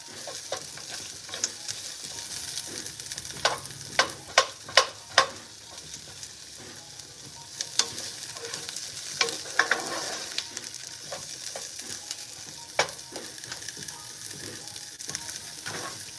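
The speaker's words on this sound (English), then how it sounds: "Okay, we got our onions up in here." Onions sizzle in a pan at close range, a constant fry hiss punctuated by many sharp clicks and scrapes of a utensil stirring, some in quick clusters.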